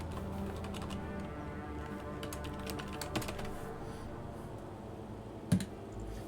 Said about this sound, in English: Wait, I gotta type on the keyboard